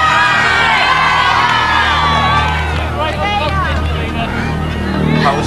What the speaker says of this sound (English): I think she's going to get a rapturous applause when she comes out